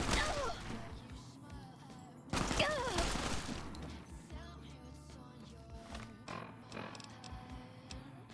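Gunshots in Fallout New Vegas, a few sharp reports in a noisy firefight with a louder burst partway through, alongside scattered game sounds and brief voices.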